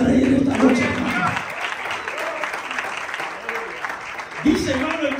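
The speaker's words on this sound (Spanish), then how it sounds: "Dele palmas al rey esta noche, hermano." A Pentecostal Church of God congregation applauds, a sustained wash of clapping that swells, dips and rises again while a voice speaks over it.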